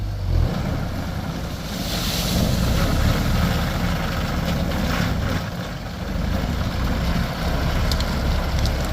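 A sugarcane harvester works a dusty cane field, giving a loud, steady mechanical roar with a heavy low rumble and a wind-like wash over it. It swells and dips slightly, with no voices.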